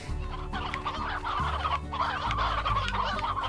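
Chickens in the video game Slime Rancher cluck loudly and without a break, a dense overlapping chorus of hen calls with no talking.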